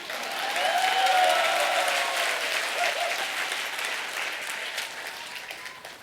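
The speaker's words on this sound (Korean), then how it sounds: "박수 치려면 화끈하게 치십시오." Concert audience applauding at a Busan political talk concert, a dense sustained wash of clapping that swells quickly and then slowly tapers, with some voices carrying over it.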